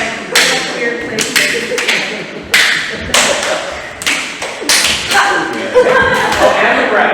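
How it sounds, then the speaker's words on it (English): Hands clap and slap against the legs in a modern dance, a series of sharp, close slaps at irregular intervals. Each one rings briefly before the next. "How about like clapping like under weird places, like pull your leg"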